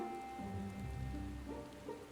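Soft, steady rainfall in the video game Final Fantasy XIV, a faint continuous patter on surfaces beneath low game ambience and music tones, with no talking.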